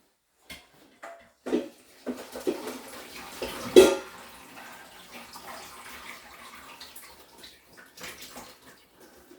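Boiled potatoes are drained, with hot water gushing and splashing into a sink in an uneven pour that surges loudly midway, then gurgles and trickles off nearby, without speech.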